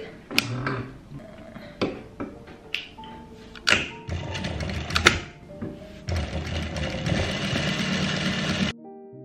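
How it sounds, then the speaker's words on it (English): A sewing machine stitches around the outside edge of a DIY striped cushion cover: short bursts of whirring stitching with pauses, then a longer, steady run of loud, close mechanical humming. "Now we are ready to just sew all the way around the"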